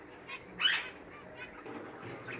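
Pet budgerigars in their cage give a brief, bright chirp early on, then faint rustling and soft movement against a quiet room background.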